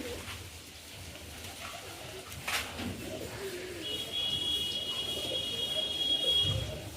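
Kalanka pigeons cooing close by, soft low murmuring calls rising and falling over a dull background, with a brief sharp noise midway and a thin steady high tone appearing later.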